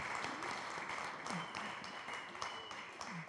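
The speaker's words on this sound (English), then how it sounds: "Give them a big round of applause." A crowd at a 30th anniversary celebration applauds volunteers, a moderate, continuous patter of clapping with faint voices mixed in.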